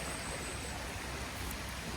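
A waterfall in a Swedish forest rushes in a steady, hissing wash of flowing water, constant and fairly near, with no break.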